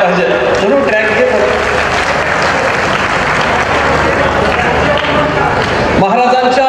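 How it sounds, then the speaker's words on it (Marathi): An audience at an award ceremony for a senior social worker in Bhivadi claps loudly and continuously for several seconds, with a voice speaking over the start and end of the applause. "एकदा जोरदार टाळ्या झाल्या पाहिजे"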